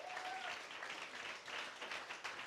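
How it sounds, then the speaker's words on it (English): Graduation ceremony audience at a Barcelona campus applauding: dense, steady clapping from a full hall that carries evenly through the short stretch with no voices. "one big round of applause for her kindness"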